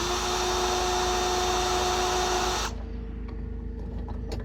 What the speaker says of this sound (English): this 1/2 inch drill is awesome